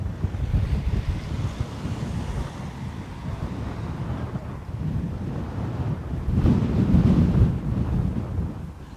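Gusty wind blowing at Dublin Airport, a rough low roar buffeting the microphone, steady with a stronger gust building near the end, no voices.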